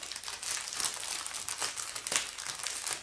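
Crinkling and rustling of a paper envelope being opened, steady close crackle with a few sharper tears and handling sounds, no speech.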